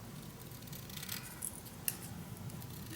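Scissors snip through paper for a craft mini album, with quiet, close cuts and a couple of small sharp clicks over a low background hum.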